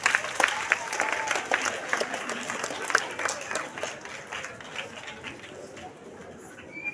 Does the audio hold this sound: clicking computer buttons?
no